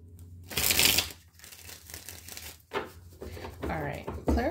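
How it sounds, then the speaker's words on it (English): Tarot cards being shuffled by hand in short crinkly bursts of riffling and rustling, close to the microphone, with a person talking in between. "Shuffle"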